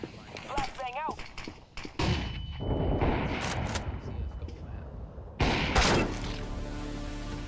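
Grenade and flashbang blasts go off amid gunfire in a video game: two loud, broadband explosive bursts, the second heavier, with scattered shots and rumbling debris around them, while voices talk throughout.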